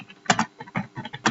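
Keys tapped on a computer keyboard while typing C program code, heard as short irregular clusters of clicks, close and fairly quiet, with no voice present.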